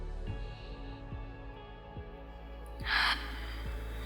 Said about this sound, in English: let's take one more breath